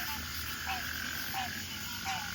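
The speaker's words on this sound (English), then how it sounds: "That's probably where all the frogs are." Frogs croak in a Louisiana swamp, a few short repeated calls spaced about half a second apart over a steady background of insects and ambient hiss, fairly faint and without speech.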